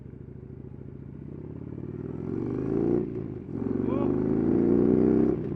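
A Harley-Davidson Dyna motorcycle engine rumbles close by and revs up twice, the second rev building louder and longer. A man lets out a short exclamation partway through.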